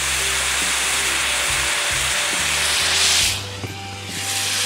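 Boiling water pours and hisses over Rollton instant noodles and seasoning packets in a bowl, a loud continuous rush that swells briefly near the end before settling.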